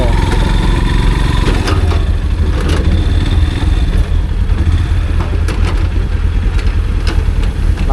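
A motorbike rides over a rough road under construction, its engine loud and close with clattering jolts and knocks from the broken surface throughout.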